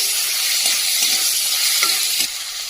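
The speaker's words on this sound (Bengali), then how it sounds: "তখন পেঁয়াজ বাটাটা দিয়ে একটুখানি ভেজে নেব" Onion paste frying in a hot pan gives a loud, steady, close sizzle with a few faint stirring scrapes underneath, continuous throughout and easing slightly near the end.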